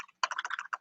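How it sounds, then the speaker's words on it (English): Rapid keystrokes on a computer keyboard while entering commands into a terminal, a quick irregular burst of close clicks after a short pause, with no voices. "I'm typing it into the terminal, yes."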